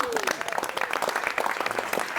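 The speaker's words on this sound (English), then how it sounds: "A round of applause." Applause at a film press meet, a dense round of clapping from the gathered audience, steady and fairly close for a couple of seconds, with some murmuring mixed in.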